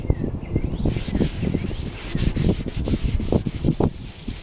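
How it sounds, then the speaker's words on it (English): Wet sanding by hand on a motorcycle paint job, a close, steady series of rhythmic rubbing strokes, each a short gritty swish repeating about every half second. "2 hours of wet sanding"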